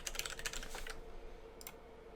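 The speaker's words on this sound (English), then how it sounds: "you're going to want to type in your password to your account" Rapid clicking keystrokes on a computer keyboard as a password is entered, a quick close flurry of taps that stops partway through, with a couple of final taps after a brief pause.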